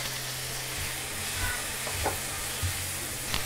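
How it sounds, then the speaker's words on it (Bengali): Diced potatoes sauté in a pan with salt, turmeric, chilli, coriander and cumin powders and ginger-garlic paste for aloo kachori filling, giving a steady, close sizzle broken by a few soft scrapes and clinks. "মশলার সাথে কিছুক্ষণ কষিয়ে নিয়েছি যাতে মশলার কাঁচা গন্ধটা চলে যায়"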